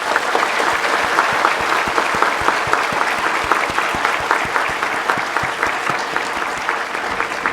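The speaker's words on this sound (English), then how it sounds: "So shall we show our appreciation in the greatest thunderous applause that this auditorium has had." Thunderous applause fills an auditorium after a memorial lecture, loud, dense clapping from a large audience holding steady throughout.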